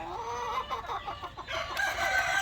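Chickens in a breeding pen cluck and chatter close by in a steady, busy flock, with short rapid calls overlapping continuously.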